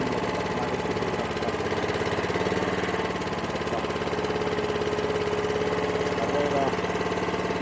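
Wiljam VL100 mini loader engine idling at low revs, a steady close rumble with an even mechanical chug throughout.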